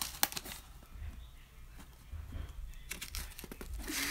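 A mail package is handled and pulled at during an attempt to open it, with irregular bursts of crinkling and tearing, close and fairly quiet, broken by brief pauses.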